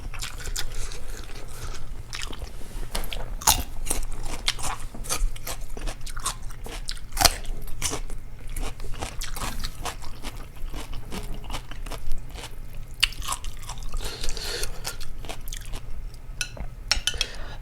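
Crisp bites and steady crunchy chewing of raw young chilies and fresh vegetables eaten alongside hot noodle soup, close up and continuous with repeated sharp crunches and no talking.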